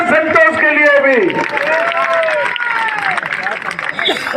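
A rally crowd at a large public meeting in Janjgir-Champa, Chhattisgarh, claps for candidate Santosh, a dense wash of applause and crowd noise under a loud voice on a public address system.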